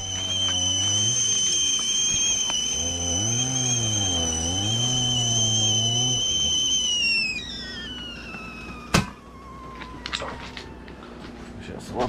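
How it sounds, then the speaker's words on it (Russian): A kettle whistles loudly and steadily outdoors at a campsite, the shrill tone wavering and then dropping away as it stops, with a sharp knock and scattered clatter afterward. "чайник вскипел, свисток открылся."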